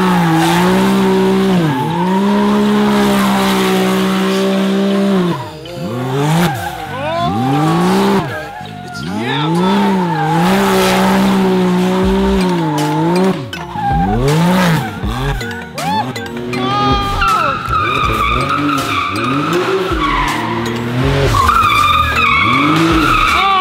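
A Can-Am Maverick X3 fitted with a drift brake slides and drifts, its tires skidding and squealing loudly in long, wavering sweeps over the engine's roar, with voices briefly talking between runs.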